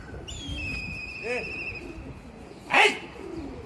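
A pigeon coos and calls near a rooftop pigeon-keeping loft, with a brief flutter burst late on and someone talking over the bird sounds.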